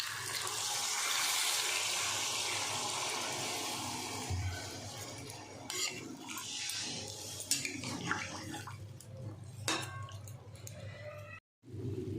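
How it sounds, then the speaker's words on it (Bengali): Water pours into a cooking pan with a loud, steady rush for several seconds, then gives way to lighter splashing and the clatter of metal cookware. "এবার আমি জলটা দিয়ে দেব।"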